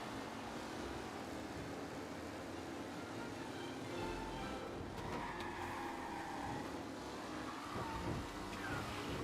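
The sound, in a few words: car driving and spinning out, from video game Mafia Definitive Edition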